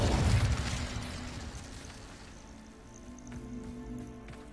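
An Incendio fire spell goes off in a Harry Potter video game: a loud burst of flame and crackle hits at once, then fades into a lingering, softer fiery hiss.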